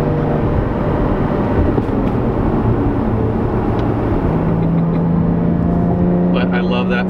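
A supercharged 2016 Jaguar F-type S with 380 horsepower drones steadily from inside the cabin, a loud continuous low engine hum whose pitch rises slightly partway through, with faint voices.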